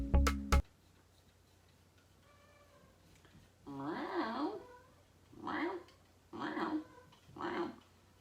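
A cat meows four times, each call a rising-falling wail with strong harmonics, fairly close and clear, following a brief loud knock at the start and some faint earlier mewing sounds.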